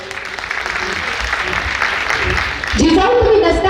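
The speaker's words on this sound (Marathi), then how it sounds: "एकदा जोरदार टाळ्या होऊन जाऊ द्या." Crowd applause at a powada performance, a dense wash of clapping under a voice, and the voice carries on alone as the clapping fades.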